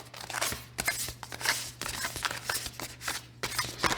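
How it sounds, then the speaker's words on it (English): A deck of cards being shuffled by hand for a tarot spread, giving a close, soft series of rapid riffling flutters and papery slaps in repeated bursts. "take the chariot card, slip it in, and begin shuffling. And my shuffle is just like this"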